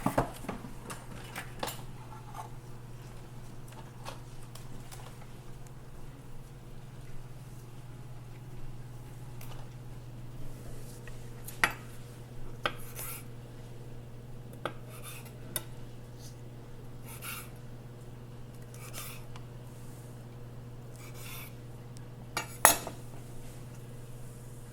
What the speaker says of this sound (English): we're gonna take some of our fresh basil and cut that up